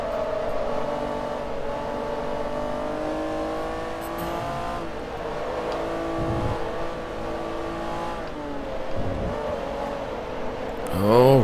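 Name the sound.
car sliding over curbs in Forza Motorsport 3 video game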